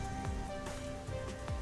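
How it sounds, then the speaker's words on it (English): Steady rain sound in the detective game Master Detective Archives, a continuous wash of falling drops with a few soft low thumps, close and even throughout. "This rain never ends"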